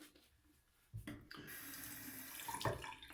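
Water runs from a tap into a sink to wet a large-knot shaving brush for Mitchell's Wool Fat soap lather, starting quietly after a soft clunk, then flowing as a steady close hiss with a brief splash near the end.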